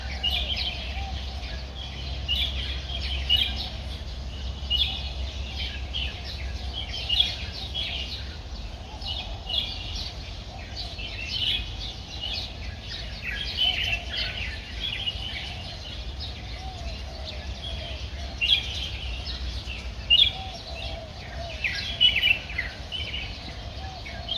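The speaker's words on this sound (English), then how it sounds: "you hear the morning birds singing" Morning birds chirp and sing in the distance in rural China, a soft continuous chorus over a faint low hum, with no voices.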